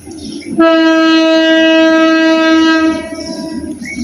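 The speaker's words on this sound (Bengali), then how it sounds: "ওই যে ট্রেন আইতেছে ট্রেনের শব্দ শোনা যাইতেছে" An intercity train sounds a long, loud, sustained horn blast lasting over two seconds, with a rumbling passing train beneath, heard nearby outdoors with no talk.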